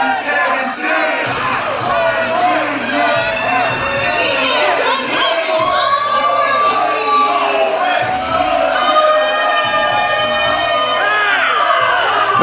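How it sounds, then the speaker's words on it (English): A packed crowd in the Action Building cheers, whoops and yells nonstop at a Southeast best-of-seven match, the roar loud and sustained with shrill voices rising above it throughout. "The crowd here in the action building, they sound war ready."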